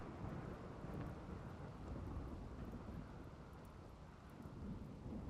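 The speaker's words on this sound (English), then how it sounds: "Looks like the thunderstorm might be passing." A video-game thunderstorm: steady, dense rain with low rolling thunder rumbling continuously underneath, loud and close, with no voices.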